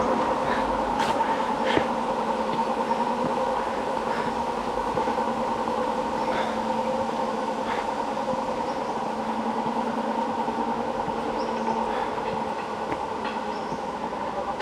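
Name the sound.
train passing on Penang Hill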